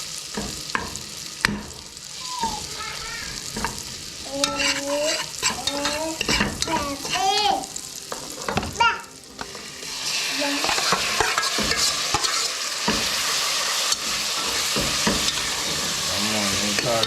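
Curry octopus with pepper sizzles and fries in a pan, with steady bright crackle, stirring scrapes and occasional clinks of utensils against the pan, close and continuous throughout.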